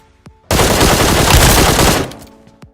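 A sustained burst of automatic gunfire in BGMI/PUBG Mobile, a loud rapid rattle lasting about a second and a half that cuts off sharply, followed by a few faint clicks.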